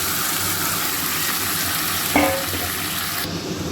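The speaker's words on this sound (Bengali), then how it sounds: "পেঁয়াজটা ভাজা হয়ে গেছে এখন আমি মাংসটাকে দিয়ে দেবো এর ভিতরে" Meat tipped into fried onions in a pan sets off a loud, continuous broadband sizzle close by, with a brief clatter midway and no voices.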